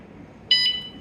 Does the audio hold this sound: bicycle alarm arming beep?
yes